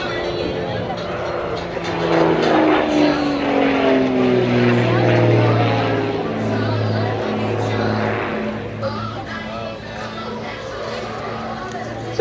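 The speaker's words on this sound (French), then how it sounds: "On remet le nez de l'avion vers le sol, on accélère, toujours au même régime moteur." Baron 55 aerobatic airplane at an air show, engines droning loud and steady overhead with a rising, shifting pitch as the aircraft dives and accelerates; a voice talks over it.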